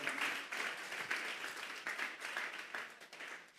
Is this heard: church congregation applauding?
yes